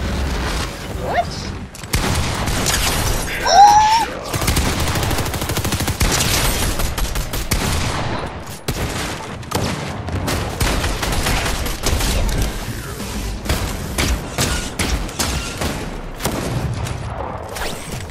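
A drum gun in the Fortnite video game fires in long rapid-fire bursts, loud and close, with near-continuous automatic shots over other game noise.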